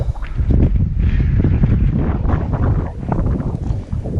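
Wind gusting across a hot, exposed trail on Granite Mountain in the Wichita Mountains, a steady loud rumbling buffet on the microphone that swells and eases without letup, with no voices.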